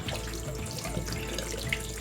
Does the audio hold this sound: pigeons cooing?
no